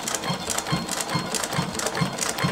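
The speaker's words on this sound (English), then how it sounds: "this is a double stitching machine, right? So this is the one that gives you the stitch either side of the main stitch in the middle" A double-stitching sewing machine runs on car upholstery for an Audi B7 RS4, its needle clattering in a rapid, even rhythm with brief pulsing bursts, close and moderately loud.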